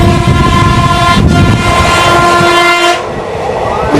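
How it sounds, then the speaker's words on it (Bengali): The Digha first passenger train pulls out of Bagnan station with a loud horn blast over rumbling wheels and clattering carriages, close by, with a brief dip as it rolls on. "সকাল 8টা বেজে 52 মিনিটে বাগনান থেকে ছেড়ে রওনা দিল দীঘা ফার্স্ট প্যাসেঞ্জার মেছেদার উদ্দেশ্যে"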